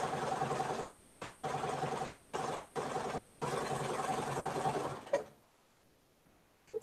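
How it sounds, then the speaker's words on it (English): A sewing machine stitches straight lines on a sweater bag in a rapid, steady mechanical whir. Several runs are broken by short stops before the motor falls silent near the end, close and clear with no speech. "That's awfully not very fun to watch me sew straight lines, is it?"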